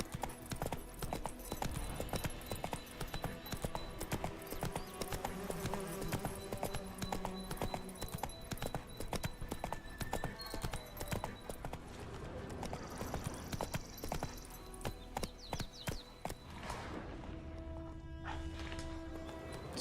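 A horse in the video game The Witcher 3 trots along with a steady, rhythmic clip-clop of hooves that continues throughout, set against a dense backdrop of in-game ambience.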